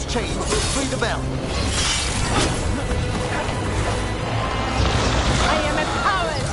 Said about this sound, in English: Shattering those chains will free the bell.